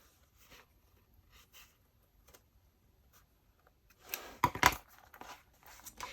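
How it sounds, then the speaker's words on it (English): Scissors poke through fabric during bag sewing, heard as a short cluster of sharp, close snips and crisp tearing taps near the end after quiet, faint handling ticks. "very carefully, I'm going to poke a hole with my scissors"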